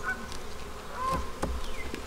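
Honey bees buzz steadily in an open beehive while a beekeeper adds a queen excluder, a close, continuous hum with wavering tones and occasional brief knocks.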